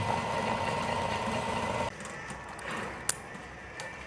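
Electric motor of a tall swinging basket amusement ride runs with a steady mid-pitched hum that cuts out partway, leaving quieter background and a brief click.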